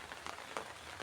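Rain falling outdoors around a home garden with young banana plants, a faint, steady hiss with a few soft drop taps over about a second.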